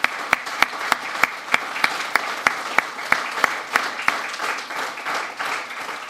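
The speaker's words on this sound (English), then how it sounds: "So let's give a big round of applause to Derek." Crowd applause at a Fort Wayne city councilman's announcement of a mayoral run, a steady roar of clapping with sharp individual claps standing out rhythmically throughout, close and fairly loud, with no talk over it.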